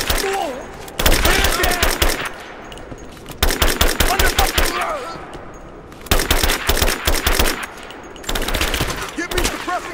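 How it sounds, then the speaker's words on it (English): Bursts of automatic gunfire from a firefight in the video game Rise of the Tomb Raider, three long loud volleys of rapid shots separated by brief lulls filled with ambient battle noise. "Give me suppressing fire, now!"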